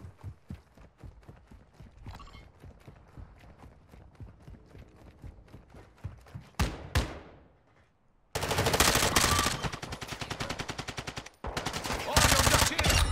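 Gunfire in the video game Warzone DMZ: quieter scattered shots and footsteps give way to a sharp whooshing burst, then a brief lull before loud, dense automatic fire rattles continuously near the end, without speech.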